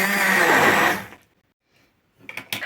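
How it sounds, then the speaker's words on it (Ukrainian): Immersion blender whipping pumpkin porridge with milk and sugar, a loud close whirring burst lasting about a second before cutting off, followed by quiet and a few faint clatters. "І зараз я погружним блендером це все зіб'ю."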